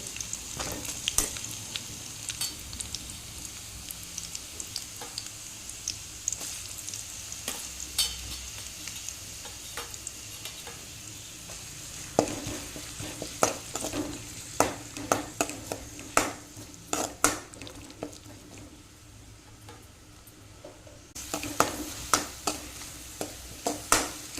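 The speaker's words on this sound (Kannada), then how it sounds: "ನೀರುಳ್ಳಿಯನ್ನು ಹಾಕಿ ಫ್ರೈ ಮಾಡ್ತೇನೆ" Onions frying in hot oil with curry leaves, a steady sizzling hiss broken by frequent clinks and scrapes of a spoon stirring against the pan, close and continuous with no one speaking.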